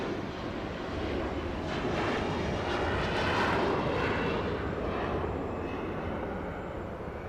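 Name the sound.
airliner beginning its takeoff roll at Los Angeles airport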